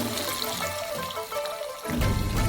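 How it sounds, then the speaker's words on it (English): Water poured into a frying pan of black beans, a soft trickling splash that swells into a louder gushing pour near the end. "And then fill it with water."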